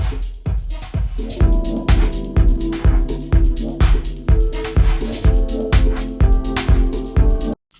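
Drum kit sent to a bus and run through a Sound City plugin, a steady groove of punchy kicks and snares with ringing, saturated tone filling the gaps, heard alone.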